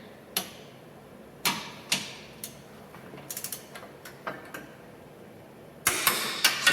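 Ratcheting clicks of a torque wrench tightening the upper shock bolts on a Jeep Wrangler JK, heard as several short bursts of clicks spaced apart, close and fairly quiet.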